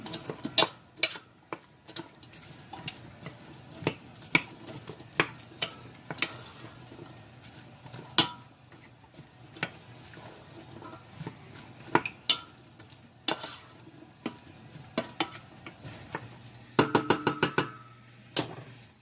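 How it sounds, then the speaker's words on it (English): A spoon scrapes and clinks against a pan while stirring onions in a little olive oil, irregular close taps and scrapes over a soft low sizzle. "now I'm going to add a very small amount of olive oil. And stir it up."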